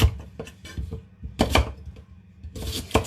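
A knife chops through dense kumara (sweet potato) on a board, cutting it into chips, with several sharp uneven strokes at close range and a few louder clusters of cuts.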